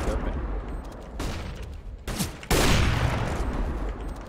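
Counter-Strike gunfire in a competitive match: scattered sharp shots, then a loud sustained burst near the end, close and punchy, with talking mixed in.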